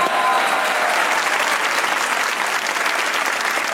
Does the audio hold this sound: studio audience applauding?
yes